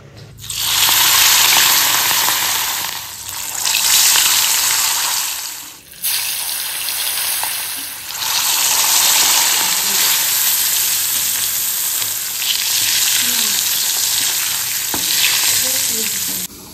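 Loud, continuous frying in leftover hilsa fish oil, a dense crackling sizzle with stirring, briefly dipping twice before carrying on close and strong throughout, with no voices.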